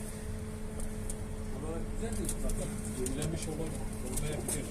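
Pigeons coo in a loft where a pair tends eggs, soft repeated throaty calls close by, overlapping with people talking and a low steady background hum.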